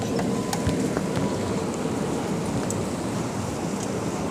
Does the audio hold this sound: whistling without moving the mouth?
no